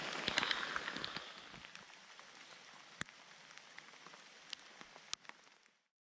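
Heavy rain pours steadily on the wetter side of Tenerife, a dense continuous hiss with scattered louder drops and splashes close by, no voices, fading out at the end.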